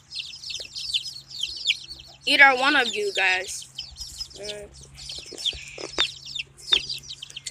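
Chickens cluck and squawk close by while a rooster-like call rises in the middle, and people talk over the birds throughout.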